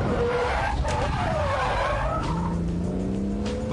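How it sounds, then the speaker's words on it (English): A BMW Z3 rear-wheel-drive car squeals its tires loudly through a braked stunt turn, engine droning throughout as the rubber screeches rise into a long sustained skid near the end. "Hit the foot brake to lock the front to bring that nose round even quicker."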